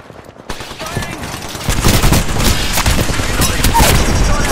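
Rapid automatic gunfire in a video game featuring Wraith and Octane, starting after a quiet moment and building into loud, sustained bursts of shots.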